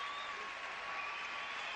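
Sustained applause from a crowd at the 1989 World Gymnastics Championships, after a floor exercise routine, fills the arena as a dense, even roar of clapping with no talking over it.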